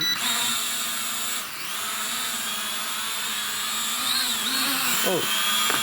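The motors of an E88 RC mini drone spin up, giving a close, steady high-pitched electric whine with shifting tones and a brief pitch swoop near the end, while a person talks.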